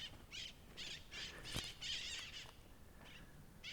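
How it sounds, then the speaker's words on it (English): Unfamiliar birds call in North Tecolote Canyon in San Diego, a series of short, rapid, hoarse notes in quick bursts followed by a sharp click, moderately close with a slight echo. "Some bird calls I definitely don't recognize."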